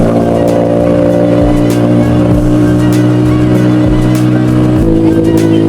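Motorcycles ridden by touring bikers on a mountain road toward Murree and Neelam Valley pass close by, their loud engines droning steadily with shifting pitch as each one goes past, with no talk over them.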